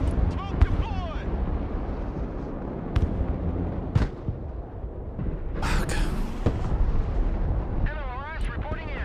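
Artillery and rocket fire in the video game Broken Arrow: sharp booming blasts and launch whooshes scattered over a rumbling battlefield bed, some loud and close, with voices in the background.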